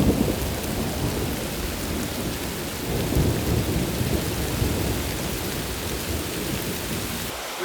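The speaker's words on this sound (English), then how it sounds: "We're in a storm with little tiny hails." A thunderstorm in the Weminuche Wilderness of Colorado, with rain and small hail hammering steadily and densely all around, and low thunder rumbling underneath throughout.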